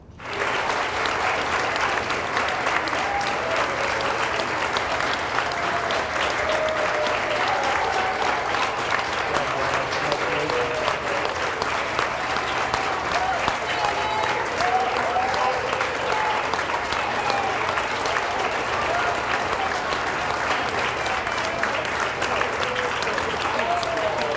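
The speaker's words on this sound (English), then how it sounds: "I think we're going to do the clap out now" Sustained applause fills a school gym as seniors pass through during a graduation clap out, a steady, loud wash of many hands clapping without a break.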